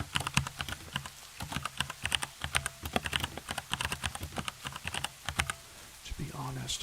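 A mechanical keyboard with red or brown switches typed on rapidly and close up, a dense run of crisp key clacks, with a soft voice briefly near the end.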